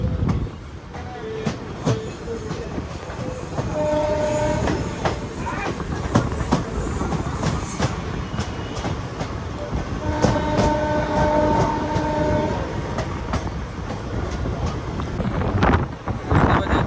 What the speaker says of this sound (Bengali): পাঁচটা বেজে 54 মিনিটে আমাদের ট্রেন ছেড়ে দিল ধুলিয়ানগঙ্গা থেকে।